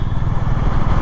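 A 2023 Honda CB 350 Highness DLX Pro motorcycle engine runs with a loud, steady, throbbing low rumble up close, and no one speaks.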